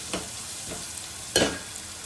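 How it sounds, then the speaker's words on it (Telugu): Onions frying in a pan for a fish and egg curry, a soft sizzle stirred with a few scraping strokes, one louder stir near the end. "ఇవైతే ఎర్రగా వేపుకుందాము"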